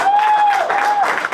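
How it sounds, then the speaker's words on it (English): A city audience in a public meeting claps steadily through the whole moment, dense and fairly loud, with a steady tone running beneath the applause. "Clap."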